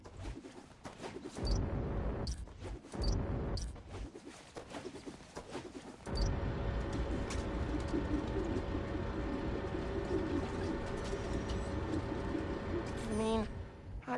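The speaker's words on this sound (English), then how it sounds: "There's a lot of birds around here." Pigeons coo in the video game Spider-Man: Miles Morales. Soft, repeated coos sit over a constant ambient city hum, with a few louder, broader bursts early on and a clear coo near the end.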